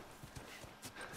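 Horse hooves clip-clop in a few soft, irregular steps within The Last of Us Remastered video game, faint and slightly distant against a hissy background.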